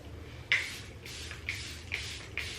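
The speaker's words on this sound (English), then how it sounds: "It's the Charlotte Tilbury Airbrush Flawless Setting Spray." Charlotte Tilbury Airbrush Flawless setting spray hisses out in five short, close bursts, each a soft airy mist spritz spaced about half a second apart over quiet room tone.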